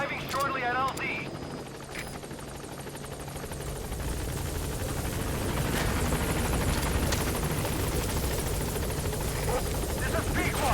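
A helicopter arriving at a landing zone in the video game Metal Gear Solid V, its rotor drone swelling steadily louder and nearer under game music and chatter.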